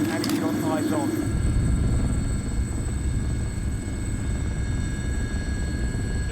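A military helicopter in flight during a naval operation against pirates, a loud, constant rotor and engine roar throughout, with brief radio-like voices at the start.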